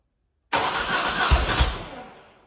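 A BMW R100RS motorcycle engine cranks and catches with no choke and no throttle in a warm garage, bursting in loudly and close with a couple of firing thumps, then fading away as it fails to keep running.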